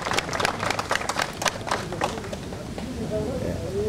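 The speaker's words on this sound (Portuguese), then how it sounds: "Pode aplaudir que ele merece" Audience applause for an accordionist at a gaúcho music show, a dense burst of clapping through most of the clip, ending with a faint tone.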